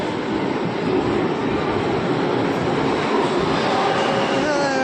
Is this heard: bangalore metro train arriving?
yes